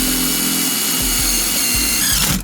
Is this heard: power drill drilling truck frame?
yes